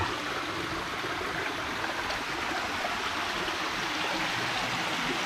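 Small streams of water flow near a cave lagoon, producing a steady, unbroken rushing and trickling wash with no pauses.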